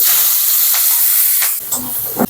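Onion frying in a pan after carrots, for chilli baby corn: a loud sizzling hiss, stirred briefly, then the hiss drops and some scraping and clatter follow.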